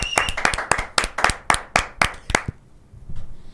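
Roughly a dozen sharp hand claps from a few people, close and crisp in a loose, uneven rhythm, stopping abruptly partway through and followed by quiet low rumble.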